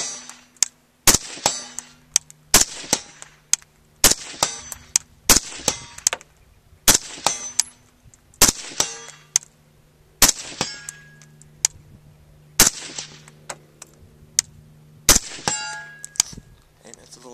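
Rifle rounds from a short-barrelled 11.5-inch AR-style rifle ring off a small 10-inch steel plate target, about ten sharp metallic clangs spaced roughly a second or two apart, each with a brief ringing tail and faint echo.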